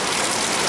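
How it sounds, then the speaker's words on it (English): Rain falls steadily in a garden during a flood, a brief, even hiss of drops with no other sounds. "So, it is raining here again."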